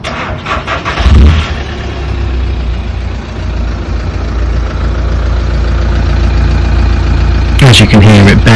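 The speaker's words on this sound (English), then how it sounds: "You can see that side exit exhaust going into place now, no boxes, so it should be nice and free running," VW T5.1 van engine running with a side exit exhaust and no silencer boxes, a steady loud close idle drone throughout, with a louder burst near the end.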